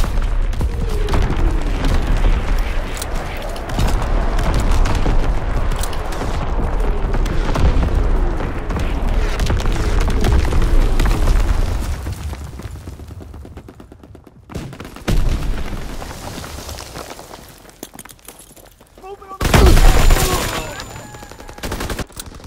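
Artillery strike in a Call of Duty WWII multiplayer match on Gibraltar: continuous distant gunfire and rumbling booms rolling for several seconds, then quieter stretches broken by a couple of heavy, loud explosions near the end.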